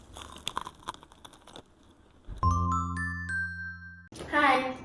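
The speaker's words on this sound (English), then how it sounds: "Let's hear that crunch." A McDonald's hash brown crunches as it is bitten, a few crisp bites up close, followed by a sustained chime-like ringing tone and a burst of voice at the end.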